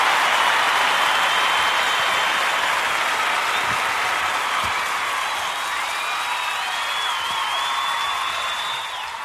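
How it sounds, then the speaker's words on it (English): A live show audience applauds continuously, a dense, even roar of clapping with some crowd noise that fades slightly at the end. "Oh, thank you very much for that wonderful applause."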